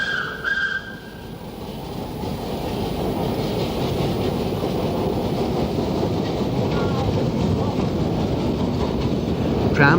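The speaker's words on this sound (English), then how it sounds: "the tram chuffed importantly by" A steam tram chuffs past steadily at close range, a continuous rolling drone with a brief squeal near the start.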